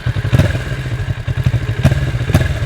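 Kawasaki Ninja 650 motorcycle fitted with an Akrapovič exhaust, recorded close to the pipe: a deep, pulsing idle burble with throaty thumps and occasional sharper pops, no talk.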